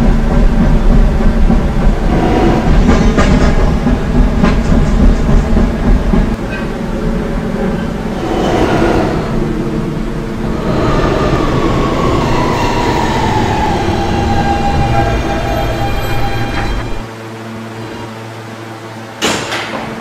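A Roblox video game R160 D subway train rumbles along the tracks for a long stretch, with rattling carriages, a squealing wheel sweep, then it quiets near the end.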